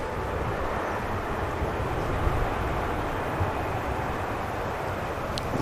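Airliner taking off from the runway at Manchester Airport, a steady broad roar of jet engines held at a distance for several seconds, no talk over it.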